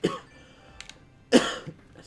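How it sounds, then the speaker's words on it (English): A person coughing, one sharp cough at the start and a louder, harsher one a second later, close and alone with no talk. "Sorry, I'm coughing so much."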